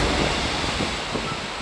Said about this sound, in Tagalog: Habang ang tunog ng alon may dalang kapayapaan.